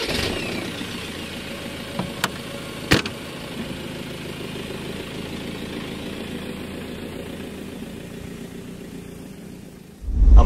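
Land Rover Defender Heritage Edition engine idling with a steady, mid-pitched diesel-like rumble after a couple of clicks, then a loud surge at the very end, with no talk.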